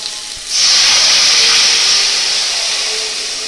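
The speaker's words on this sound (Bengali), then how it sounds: "এখন আমি এতে জল দিয়ে দেব।" Water hits a hot pan of fried potatoes and spices for Kashmiri aloo dum, bursting into a loud, sustained steamy hiss that starts abruptly and slowly eases off.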